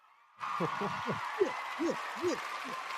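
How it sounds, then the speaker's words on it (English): Applause from a studio audience starts suddenly and holds steady, while someone talks over it. "let's get a big round of applause for the return of JP, the hip-hop fisherman"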